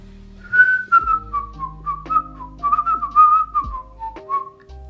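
Close, loud whistling of a wandering melody with sliding pitches and short phrases, heard alone over a faint low background.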